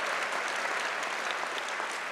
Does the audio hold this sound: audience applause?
yes